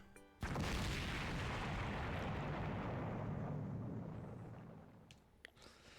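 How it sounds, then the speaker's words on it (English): A massive video game explosion bursts out with a sudden deep boom, then a long rumbling roar that slowly fades over several seconds, with a couple of faint clicks at the end. "I blacked out just as a massive explosion rang out."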